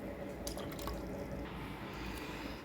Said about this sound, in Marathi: पाणी घालणार आहोत।